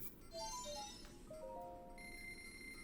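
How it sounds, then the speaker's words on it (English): The exchange machine in Zelda: Breath of the Wild gives a short sequence of electronic tones: quick chirping beeps, then sustained higher tones, over a faint background hum. "Exchanging, beep, beep, exchanging, beep, beep, results available, weep."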